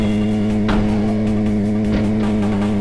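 A car in the VRChat game drives along with a loud, continuous engine drone and strong steady harmonics, rising in a rev partway through, close and without talk.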